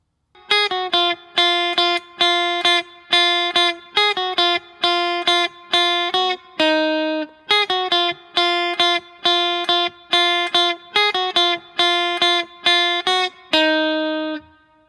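Guitar playing a repeating riff, clean plucked notes in a bright, steady pattern that loops several times and ends on a held note, with no talking.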